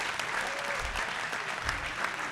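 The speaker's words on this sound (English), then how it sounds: "can we give a big round of applause to our three panelists?" Audience applause for three panelists at a student summit on jobs in Indiana's advanced industries, steady dense clapping throughout at moderate level with no talk over it.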